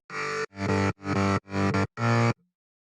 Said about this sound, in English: For the bass, we have 2 different sounds.